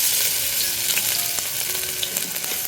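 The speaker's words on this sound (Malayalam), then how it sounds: "ഇനി ഇതിലേക്ക് ചതച്ച് വെച്ചിരിക്കുന്ന വെളുത്തുള്ളി ഇട്ട് കൊടുക്കാം" Crushed garlic frying in hot coconut oil in a cooker gives a close, steady sizzle with scattered small crackles running throughout, with no talking.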